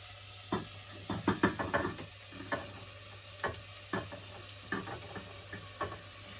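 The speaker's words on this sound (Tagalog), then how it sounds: "ilagay na natin yung paprika. Gisa natin yung gulay. Tsaka yung Chinese cole" Vegetables with paprika and Chinese cabbage sautéing in a pan, a soft low sizzle punctuated by repeated scraping stirs of a utensil, close and fairly quiet.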